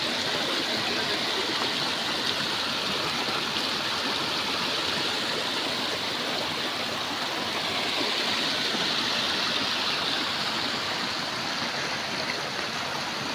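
Water rushing continuously in a stream in Pedambe village in the Konkan, a loud, steady gush close by with no voices.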